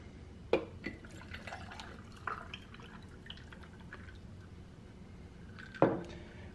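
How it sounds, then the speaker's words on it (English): Hot coffee is poured over frozen coffee ice cubes, giving sparse drips, small splashes and sharp crackling clinks, with one near-field splash at the start and another near the end over quiet room tone. "here's the hot coffee we're gonna pour into it."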